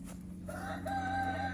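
Americana chickens cluck and make drawn-out, tonal calls nearby over a low steady background hum.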